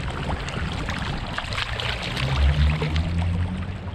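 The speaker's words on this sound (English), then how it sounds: "Look how much water is coming out just out of the bubbler." Clear spring water gushing from a bubbler at Boiling Springs, a karst spring in Cumberland County, Pennsylvania, flows steadily as a full stream, with a continuous close rushing and pouring wash and a low rumble underneath.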